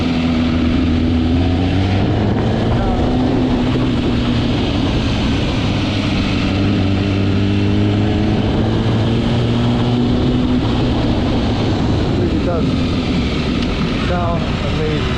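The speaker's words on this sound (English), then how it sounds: "I love the way this bike sounds." A 2018 MV Agusta motorcycle engine runs in a loud, steady drone, its pitch sliding up and down as the rider shifts gears and the revs change.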